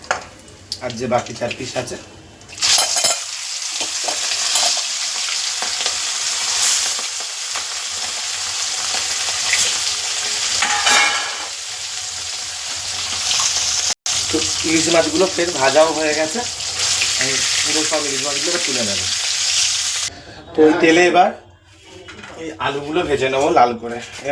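Potato pieces and other vegetables frying in hot oil in a pan after hilsa fish, a steady loud sizzle that runs for long stretches, then breaks off near the end while a person talks.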